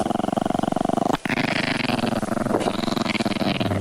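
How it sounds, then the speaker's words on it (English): A dog growls inside the back of a police car, a deep continuous rumbling snarl close to the microphone that barely pauses, sounding almost like a large cat. "There's a dog in here."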